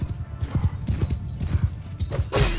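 Horse hooves clip-clopping in a gallop in the video game Mount & Blade 2: Bannerlord, a quick uneven run of thuds heard close, with a brief whinny-like burst near the end.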